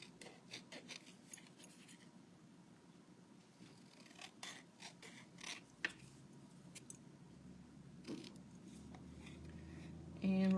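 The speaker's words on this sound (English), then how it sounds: "I'm going to go ahead and cut out these banner pieces." Scissors cutting out paper banner pieces for an interactive card, giving a series of close, quiet snips and rustles at an irregular pace over a low background hum.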